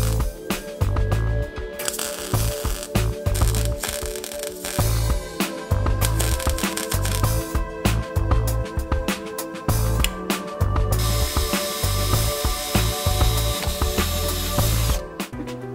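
Stick welder tack-welding mild steel bar stock with a stainless rod on a propane BBQ burner build: a loud, steady crackling sizzle broken into several bursts with short pauses, close by and with no talking.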